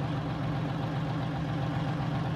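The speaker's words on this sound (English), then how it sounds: "We're running the Detroit diesel in this truck today." A heavy Detroit diesel engine in a Mack Superliner truck idling in American Truck Simulator, a steady low rumble, constant and unbroken, nearby with no voices.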